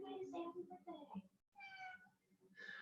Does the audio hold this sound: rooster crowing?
no